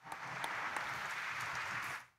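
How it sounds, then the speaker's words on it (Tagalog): Applause from a congregation at a Quiapo Church mass honoring Jesus Nazareno, a steady, fairly faint wash of clapping that holds for about two seconds before cutting off. "Ati pong papurihan ang ating pong Jesus Nazareno sa isang malakas na palakpak"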